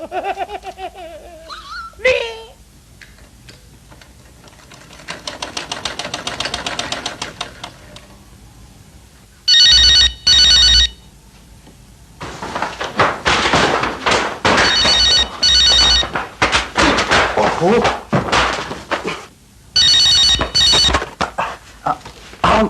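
A telephone bell rings loudly in repeated bursts, with pauses between rings, in a household scene of a classic drama. Voices talk before and between the rings.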